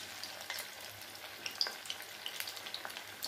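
Chakli, a crisp spiral snack, frying in hot oil inside a pan, with a steady close sizzle and small irregular pops and crackles throughout, and no voices.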